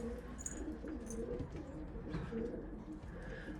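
Domestic pigeons coo softly and repeatedly in a loft, with low, murmuring calls and faint rustling throughout.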